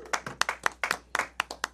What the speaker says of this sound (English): y'all clap it up